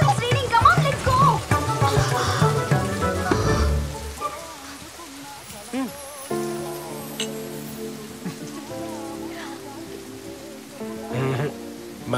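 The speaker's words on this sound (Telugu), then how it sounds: "Oh, it's raining." Rain falls in a Telugu movie scene with a dense patter that is strongest at the start and then thins out, while people talk over it.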